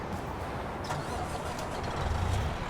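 A Western Star 49X heavy truck's diesel engine cranks and rumbles to life, a steady low roar that swells louder near the end.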